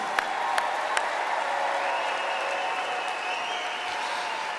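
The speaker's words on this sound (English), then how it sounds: "A big round of applause," Steady, dense audience applause fills an awards closing ceremony at the Invictus Games 2022, with a few sharper claps standing out near the start and a faint tonal hum running beneath the crowd.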